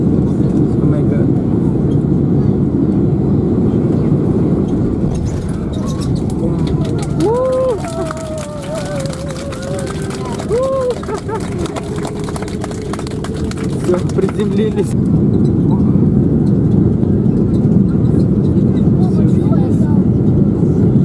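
An airliner touches down on a flight to Tunisia. A loud, continuous cabin rumble swells into a harsher roar for several seconds, then settles back to a steady drone while passengers talk.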